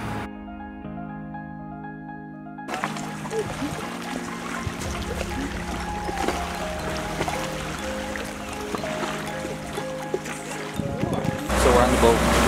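Water sloshes and trickles around a glass-bottom tour boat under a droning motor hum, with a soft musical tone at the start and knocks throughout.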